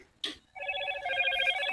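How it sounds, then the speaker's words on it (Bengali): A telephone rings with a sustained electronic trilling tone that starts abruptly after a short bump of noise and continues steadily, close and fairly loud. "আবার কে ফোন করলো?"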